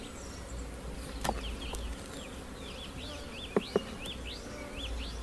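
Honey bees buzz steadily around an opened brood box while a nucleus colony is split from the hive. A soft, even drone runs throughout with a few sharp knocks and clicks from handling the frames.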